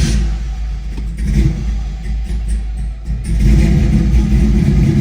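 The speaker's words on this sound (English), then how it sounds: "I'm gonna show you how to start this car too" A 1969 Chevrolet Camaro V8 with a big cam runs loud and close, its lumpy, uneven low rumble swelling slightly as the revs rise near the end, with no talking over it.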